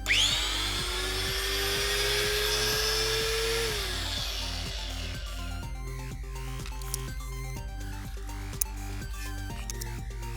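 An angle grinder with a freshly regreased gear head runs briefly, whining close and loud as it spins up, then falling in pitch and winding down over several seconds, with small clicks and knocks as it coasts to a stop.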